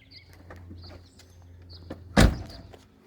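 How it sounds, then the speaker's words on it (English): Back to the Future DeLorean gull-wing car door swung shut with a single sharp thud near the end, preceded by quiet handling and movement sounds. "Okay, so we're going to close the door."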